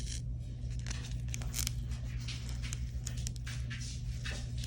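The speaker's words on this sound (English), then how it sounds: "So after you do that a little bit, you're gonna start peeling it away." Vinyl is peeled slowly off its backing onto transfer paper for a pumpkin string art project, giving a soft continuous tearing and crackling close by over a low hum; no talk.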